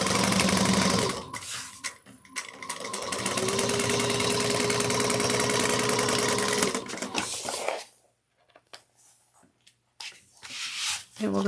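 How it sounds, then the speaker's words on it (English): A sewing machine top stitches a bucket bag pocket at a 1/8 inch seam allowance, running steadily and close for about six seconds before stopping, followed by quieter handling sounds and brief bursts. "top stitch it at 1/8 of an inch"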